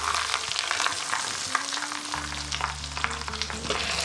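Duck browning in its own rendered fat: a constant dense sizzle and crackle, close and fairly loud, with a low hum underneath and no voices.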